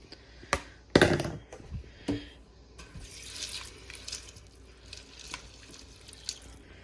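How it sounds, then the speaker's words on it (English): Water is poured over pre-soaked, rinsed beans in a pot with green chilies, giving a few sharp splashes and thunks at first, then a soft, close trickling and dripping with no talk. "I'm adding a little bit of water for the beans to absorb."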